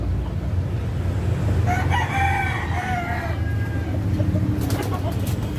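An Allen Roundhead rooster crows once at moderate distance, a drawn-out call rising over steady farmyard background noise, with faint clucks and other birds nearby.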